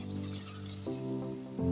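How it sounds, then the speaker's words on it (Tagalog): Water poured from a glass into a cooking pot, a steady liquid fill whose tone shifts as the level rises, close and clear with no talking. "Tapos lagyan ng isang basong tubig."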